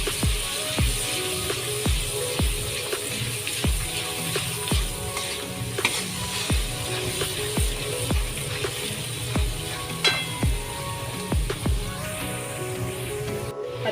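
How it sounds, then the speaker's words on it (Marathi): Spiced masala for a fiery Malvani bangda (mackerel) curry sizzles steadily in a pan, with a regular clatter of a spoon stirring and scraping through it; close and fairly loud, with no talking. "चांगलं परतून घ्यायचं आहे"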